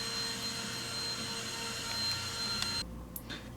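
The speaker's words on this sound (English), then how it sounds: "Sorry, the wife's hoovering downstairs." A vacuum cleaner hoovering downstairs in a house, a steady muffled whine and drone running continuously before cutting off abruptly near the end.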